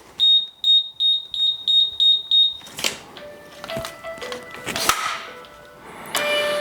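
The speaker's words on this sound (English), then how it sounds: "Of course, I'd have a phone call." Indoors, a phone gives repeated electronic beeping tones in a steady rhythm of about eight short bursts, loud and close, followed by clattering handling noises and scattered knocks.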